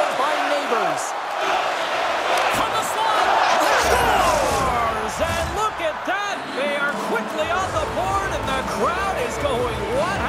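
An arena crowd at an NHL 24 ice hockey video game swells into a loud roar and cheer, with a commentator talking over the steady crowd noise throughout.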